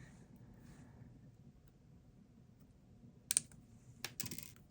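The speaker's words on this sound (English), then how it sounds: "All right, before I press that down, I'm going to snip it." Wire cutters snipping jewelry wire while a ring is made: a couple of sharp, close clicks near the end, over a quiet background hum.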